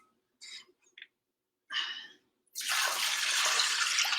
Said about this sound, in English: This is just tap water into the pot